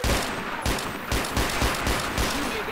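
Rapid gunfire in the zombie shooter Left 4 Dead 2 during a Versus match on the Parish campaign, a dense run of overlapping shots with repeated sharp bursts, loud and close, with a voice talking faintly underneath.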